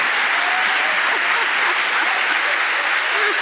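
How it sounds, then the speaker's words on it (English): An audience at the Jessup international moot court world championship rounds applauds, with steady, dense clapping that stays loud and even throughout. "I was expecting you to clap for yourselves"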